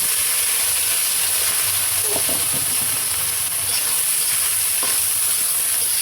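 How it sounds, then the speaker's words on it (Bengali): Onion and green chili frying in mustard oil for a papaya bhorta, giving a steady, close, loud sizzle throughout with a few light stirring clicks. "এখন আমি সরিষার তেলটা দিয়ে দিই। এখন পেঁয়াজ আর মরিচটা দিয়ে দিই।"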